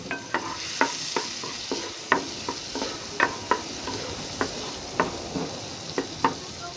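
Onions, five pieces coarsely cut, hit a hot frying pan and sizzle while a utensil stirs them, giving a steady fry broken by regular scraping taps, close and fairly quiet with no voices.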